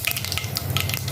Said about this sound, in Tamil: தாளிக்கிறதுக்கு கடுகு லைட்டாக பொரியட்டும்